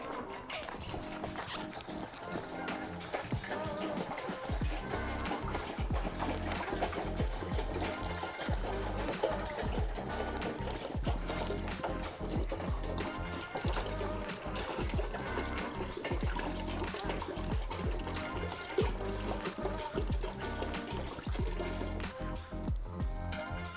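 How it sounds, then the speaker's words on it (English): About a gallon of water is poured into a pot for simple syrup, a steady sloshing, splashing stream that runs continuously at moderate level with faint clunks mixed in. "we're going to start off with adding about a gallon of water. And so I'm just going to get it up there and pour it in"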